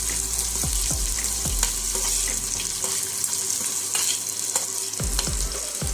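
Chopped onion fries with cumin and mustard seeds in hot oil for a Maharashtrian sushila dish, giving a steady close sizzle with scattered pops and crackles throughout.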